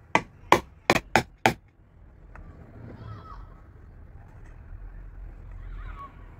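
Five sharp hammer taps strike a nail in quick succession, close and loud, then stop. A quieter stretch of low background noise with faint speech follows, in a plumbing repair of a mixer tap.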